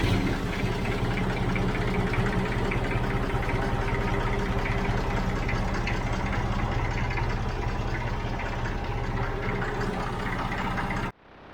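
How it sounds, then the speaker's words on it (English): An old Massey Ferguson 50 tractor's diesel engine idles steadily with a low, throbbing knock before cutting off abruptly at the end. "See if the Massey Ferguson Model 50 will start."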